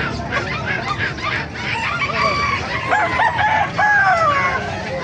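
Roosters crowing repeatedly over a busy background din at the Bocaue market, several drawn-out cock-a-doodle-doo calls rising and falling close by, with clucking mixed in.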